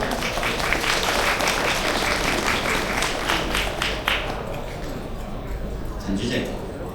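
Loud, dense applause from an audience at an installation ceremony for an automobile battery and tyre trade association, welcoming a legislator to the stage. The clapping sustains for several seconds before thinning out, with an announcer's voice over it.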